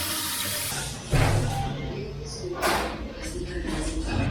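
Water running from a kitchen tap in a Colombian neighbourhood home, a steady close rush of splashing water with brief louder surges, heard alone without talk.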